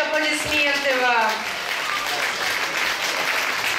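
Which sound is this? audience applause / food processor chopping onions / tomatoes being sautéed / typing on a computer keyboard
audience applause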